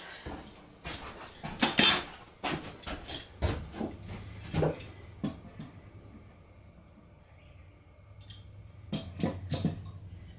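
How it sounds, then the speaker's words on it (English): Metal corner clamps rattle and click as they are set onto a wooden frame for a shoe photo booth: a series of sharp, close metallic clinks and taps, then a lull, then a few more clicks. "I'm going to use my corner clamps here just to hold that thing together."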